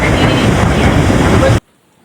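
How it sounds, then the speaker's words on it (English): Heavy rain pounds down during a thunderstorm out on the water, a loud, dense wash of noise with wind buffeting the microphone, cutting off abruptly into near silence after about a second and a half. "Here, the rain got so intense that we had to put our phones away."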